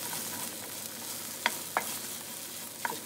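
Prawn linguine ingredients softening in a frying pan are stirred, giving a few sharp utensil clicks against the pan over a steady, fairly quiet sizzle.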